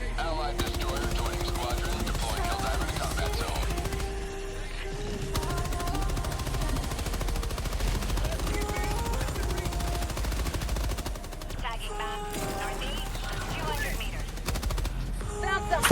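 Sustained rapid machine gun fire in the Helldivers 2 video game while fighting the Illuminate, with dense bursts that continue almost without pause, mixed with game sounds and voices talking over it.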